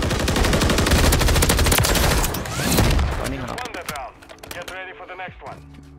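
Dense automatic gunfire from the Modern Warfare III shooter rattles in loud rapid bursts, then thins into scattered shots as the firing fades, while a player talks over it.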